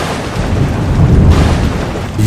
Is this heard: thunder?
yes